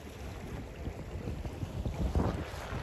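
Wind rushes over the microphone at a Sunfish dinghy sailing world championship, a low, gusty roar that swells and buffets throughout, with no voices.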